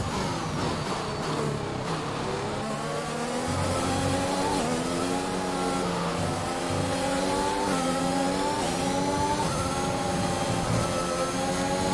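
An F1 car engine in the F1 2021 video game winds up under acceleration, a loud, continuous high-revving buzz that rises steadily with brief dips at gear changes.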